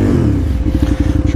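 A KTM 950 motorcycle engine on gravel, held at low revs with gentle throttle and clutch: a loud, close, throbbing rumble that pulses unevenly as the throttle is eased, with someone talking over it.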